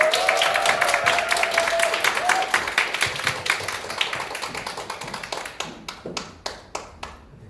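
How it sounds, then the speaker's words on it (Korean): A room of staff at a company training session breaks into applause to welcome a lecturer; brisk clapping at first, thinning to a few distinct, spaced claps at the end, with faint voices early on. "큰 박수로 모시겠습니다."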